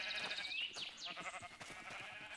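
Sheep bleating in a video game, a couple of high, wavering bleats up close over a steady buzzing game backdrop, with no talking.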